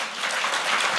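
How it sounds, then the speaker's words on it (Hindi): Brief burst of audience applause at a conclave-style interview event in Punjab, dense and fairly loud for about a second with no talk over it. "इसके लिए तालियां बजनी चाहिए।"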